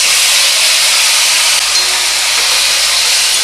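Winter vegetables, spring onion greens, hit hot oil with garlic and chillies in a pan, producing a loud, continuous, dense sizzling hiss that holds steady throughout.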